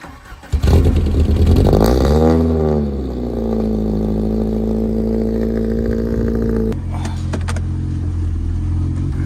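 A car engine revs hard and climbs in pitch as it accelerates during a ride, then settles into a steady loud drone, with a clunk near the end; nobody speaks.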